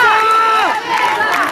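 Spectators at the 2013 SC Bowl American football game between Corupá Buffalos and Istepôs shout together to urge on the defense, a loud surge of overlapping raised voices that dips briefly, then swells again.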